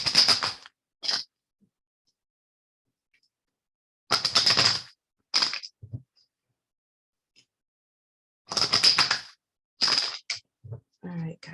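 Tarot cards being shuffled and pulled: three separate bursts of rapid riffling and flicking, each about a second long, separated by quiet gaps, with faint soft handling sounds between them.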